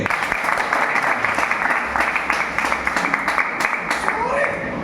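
An audience at a puppet show at Light Of Hope, Cheppad, Alappuzha, applauds in a dense, continuous burst of clapping while a voice talks over it.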